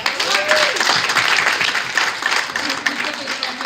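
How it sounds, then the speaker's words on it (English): Applause from the audience at an awards breakfast, a dense, steady wash of many hands clapping at close range, with voices faintly underneath. "please, let's give a round of applause for Siobhan Bennett."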